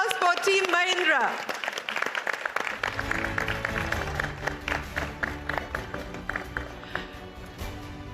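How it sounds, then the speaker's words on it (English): A crowd at the India Business Leader Awards ceremony applauds Team Mahindra. A brief announcer's voice gives way to sustained, dense clapping that fills the hall and continues steadily to the end. "Ladies and gentlemen, a big round of applause for Team Mahindra."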